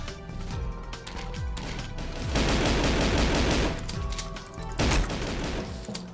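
Pistol and other gunfire in the first-person shooter game Goldeneye: Source, loud dense bursts of rapid shots that swell in the middle and again near the end, with no talking.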